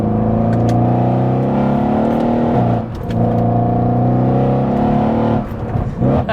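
Tuned Mercedes E63 AMG making 735 bhp revs hard and loud up close. The engine holds a steady high drone, dips briefly near the middle, climbs again, then drops off at the end with no talk.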